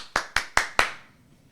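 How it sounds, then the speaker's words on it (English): Four sharp, evenly spaced hand claps ring out close and clear as self-applause, each with a quick decay, followed by brief room quiet. "It's my own applause for me."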